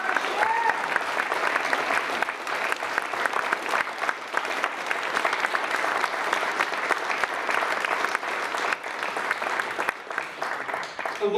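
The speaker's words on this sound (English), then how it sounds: "Could you all please give a giant round of applause for these guys?" A large audience at a This Is My Brave Australia show in Canberra gives a long, loud round of applause, thick continuous clapping with a little crowd noise and no clear speech throughout.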